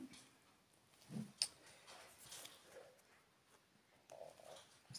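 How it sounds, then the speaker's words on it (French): Faint, quiet clicks and soft chewing noises of a dog eating nearby, with an occasional sharper tick of kibble against a bowl in a hushed room. "vous entendez du bruit, c'est ma chienne qui mange."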